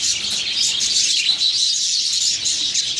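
Pet budgerigars chirp continuously in a dense, bright chatter of overlapping tweets, close and fairly loud, with no voices.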